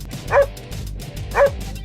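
Two short, bright barks from a dog, evenly spaced about a second apart, close and clear over a faint musical backing, with no talking.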